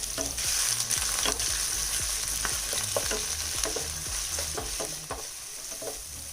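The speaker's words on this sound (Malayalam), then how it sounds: "ഇനി ഇതിലേക്ക് 2 വലിയ സവാള അരിഞ്ഞത് ചേർത്തിട്ടൊന്ന് വഴറ്റി കൊടുക്കുക." Two large chopped onions are sautéed in hot oil in a pan. A steady, close sizzle runs throughout, broken by repeated scraping stirs. No one speaks.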